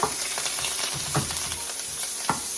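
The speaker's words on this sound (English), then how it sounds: "I'm adding my butter." Butter melting in a pan on a stove at medium-low heat, a close hissing sizzle with a few brief stirring scrapes.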